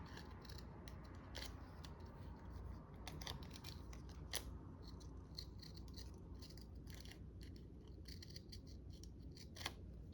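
Straight scissors snipping through craft paper in a quiet room, with a busy run of small crisp cuts and metallic clicks of the blades close by, and no voices.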